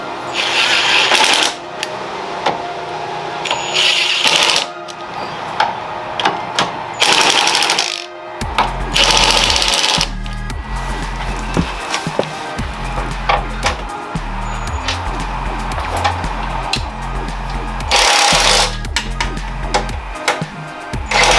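Sway bar bolts are tightened on a Toyota Supra with a ratcheting tool, giving rapid clicking bursts and metallic knocks close by, loud and repeated in short runs with brief pauses.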